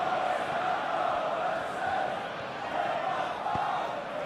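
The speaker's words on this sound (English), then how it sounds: "Well, the crowd clearly like what they just saw." Football stadium crowd in PES 2021 roaring in a steady, dense wash of cheering that holds at a constant level throughout, with no commentary over it.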